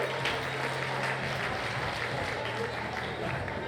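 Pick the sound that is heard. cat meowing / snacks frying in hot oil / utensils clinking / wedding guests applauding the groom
wedding guests applauding the groom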